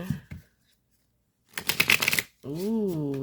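A tarot deck is shuffled by hand in one quick, crisp riffle of card edges lasting about a second, set between brief bits of nearby speech.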